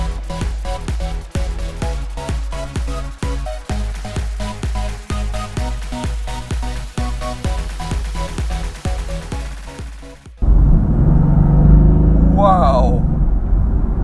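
A 2016 Mercedes-AMG GT S engine, first as a loud rapid pulsing idle burble with regular beats, then abruptly rising into a steady strong roar with a climbing rev tone.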